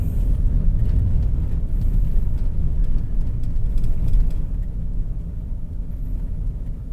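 A car drives along a rough dirt road through an area of manufactured homes, making a loud, steady low rumble of engine and tyres that runs unbroken from start to finish.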